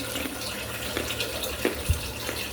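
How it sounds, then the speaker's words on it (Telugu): Tap water runs into a bowl for cooking pasta, a steady close-up stream with a few splashy gurgles and a low thump, no talking. "సో ఫస్ట్ అయితే ఒక బౌల్లో వాటర్ తీసుకుంటున్నాను"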